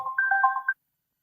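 A short electronic phone ringtone melody plays clearly, a quick run of bright tones that stops abruptly, followed by silence.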